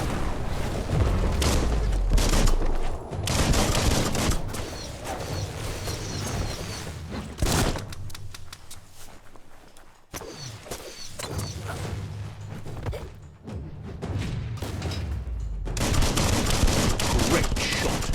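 Gunfire in the video game Biomutant, loud and close: rapid bursts of shots and booming impacts in dense clusters, broken by a brief lull before more firing resumes.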